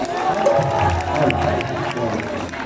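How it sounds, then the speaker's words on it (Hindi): A crowd claps and cheers for a performer at a college farewell event for electrical engineering students, loud and continuous throughout, with voices and shouts mixed into the clapping. "माशाल्लाह हमारे साउंड के ऊपर अरसलान भाई के लिए बहुत सारे तालियां हैं"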